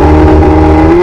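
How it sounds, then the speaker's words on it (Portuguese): A motorcycle engine from a film scene, loud and close, a steady droning roar with the pitch climbing slightly near the end as it starts to pull away. "pega a moto do motoqueiro fantasma e sai dali junto com Lucy"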